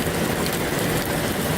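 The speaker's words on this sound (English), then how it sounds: "actually hailing outside." Hail falls outside during a storm, a dense, continuous patter of pellets striking surfaces, loud and close with no pauses.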